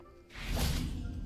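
A Confringo fire spell cast in Hogwarts Legacy bursts as a loud whooshing blast with a soft thud, swelling after a quiet start and holding steady for about a second before fading.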